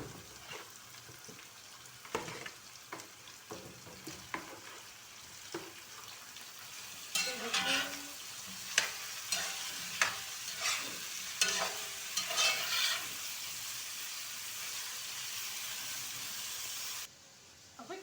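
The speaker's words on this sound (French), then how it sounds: "j'ajoute ma viande dans l'huile pour la faire un peu mijoter" Meat frying in oil in a pot: a continuous sizzle broken by clusters of stirring and scraping clatter, louder in the middle stretch and then fading back to a steady hiss.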